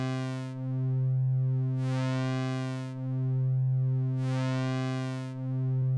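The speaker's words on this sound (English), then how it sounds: "And here's an actual sine wave." A steady pure test tone hums continuously with a slowly pulsing, sweeping overtone texture, loud and alone without any voices.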